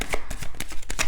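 Tarot cards are shuffled by hand in quick, uneven bursts of papery riffling and slapping, close and clear, with no one talking.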